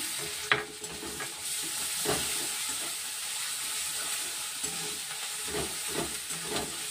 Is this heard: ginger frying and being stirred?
yes